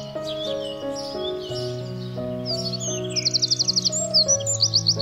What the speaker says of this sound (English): Eurasian wren.